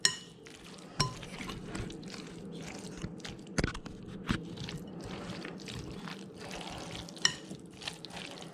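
Dressing is stirred into potato salad, with soft, wet squelching and scraping from a spoon in a bowl. A few sharper clinks and taps stand out over quiet background.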